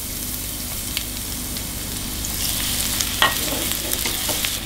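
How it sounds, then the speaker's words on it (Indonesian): Garlic frying in hot oil in a pan, a steady close sizzle with occasional stirring scrapes, no talking. "Oke, minyaknya sudah panas. Kita masukkan bawang putih."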